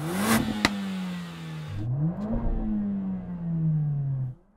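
A six-cylinder sports car engine revs hard, drops briefly, then climbs again in a long sustained howl before cutting off abruptly, loud and close with no talking.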